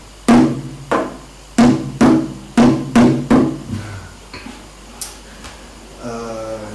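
A kendang hand drum is struck in a quick run of ringing peng strokes with a short pitched tone, then trails off into a few scattered faint taps.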